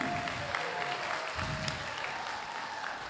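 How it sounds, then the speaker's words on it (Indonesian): Steady applause from a university audience after a lecture, dense and continuous clapping filling the whole stretch without pause, with no voices standing out. "Sekali lagi kita berikan tepuk tangan yang meriah untuk Pak Anies Baswedan."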